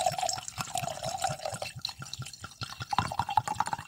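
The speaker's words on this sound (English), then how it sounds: "now I'll stop pouring the wine" Wine glugs and trickles from a bottle in a steady liquid pour with bubbling gurgles, running continuously close by with no talking.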